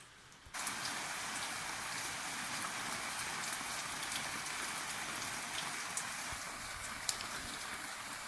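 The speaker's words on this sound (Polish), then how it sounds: "Daleko tam pada." Steady rain falls during a storm, starting abruptly and then holding an even, dense hiss of drops on surfaces. It is moderately quiet, with no talking.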